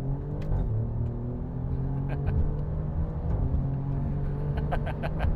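An Alfa Romeo Giulia Quadrifoglio accelerates hard in race mode on a track straightaway, its engine a steady, close, rising drone with wind and road noise throughout and brief sharp clicks or ticks scattered over the top.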